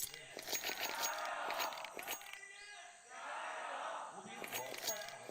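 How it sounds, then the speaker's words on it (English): Chinese fans cheering and chanting in an arena during a Counter-Strike Asia Cup grand final, a loud steady crowd roar with rhythmic claps and shouts throughout. "Can hear the Chinese fans as well trying to cheer Lin Vision on"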